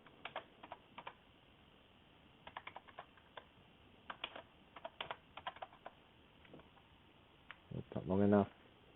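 Password typed on a computer keyboard, soft scattered clusters of key taps at close range, followed by a brief louder sound at the end, with quiet talking nearby.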